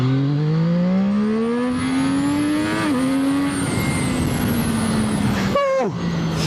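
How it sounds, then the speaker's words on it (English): A Zxmoto 820RR motorcycle accelerates hard, its engine note climbing loud and close through the gears. A brief dip marks each shift, and a sharp rev change comes near the end, with wind and road noise under it. "let's try to accelerate again"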